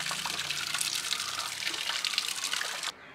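Water sprays steadily from a Garud garden hose nozzle set to its soaker option, a close, continuous hiss and patter in a garden that cuts off abruptly just before the end.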